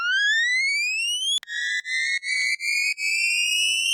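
A kettle whistle sample pitched upward over time with added effects in an electronic track: a bright rising whistle glide, then a sudden jump into a higher tone stuttered by rhythmic dropouts, loud and wide.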